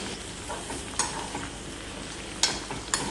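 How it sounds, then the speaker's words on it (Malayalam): Dried red chillies fry in oil for an onion chammanthi, a steady close sizzle broken by a few soft scraping stirs, with no one talking. "ഈ വറ്റൽ മുളക് നല്ല രീതിയിൽ ഡാർക്ക് റെഡ് ആവുന്ന പോലെ ഒന്ന് മൂത്ത് വരും"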